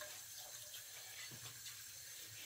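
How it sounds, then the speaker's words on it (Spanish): Water, about 100 to 200 millilitres, is poured into a pot of Cuban sweet rice pudding, a steady close hiss of running liquid lasting throughout without pauses or talk. "E inclusive le voy a poner un poquito de agua, más o menos unos 100 a 200 mililitros de agua"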